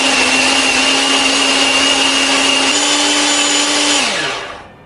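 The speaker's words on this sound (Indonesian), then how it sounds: "Bumbu ini akan kita haluskan menggunakan chopper ya." An electric chopper whirs loudly, grinding curly chilies, shallots and garlic with a steady motor hum that rises slightly in pitch before winding down at the end.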